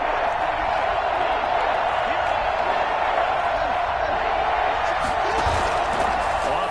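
A stadium crowd at a football game between the Titans and the Ravens roars in a dense, continuous wash of noise before a third-and-short play, with a voice talking over it.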